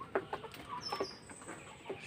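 Laying hens, about five and a half months old, cluck in a short run of soft, repeated calls at moderate distance, with a faint higher bird call over a quiet background and no talking.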